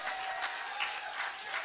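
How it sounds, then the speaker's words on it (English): A crowd applauds the next Prime Minister of Trinidad and Tobago at an outdoor street event, a steady wash of distant clapping that is fairly faint and continuous. "Please give me a round of applause"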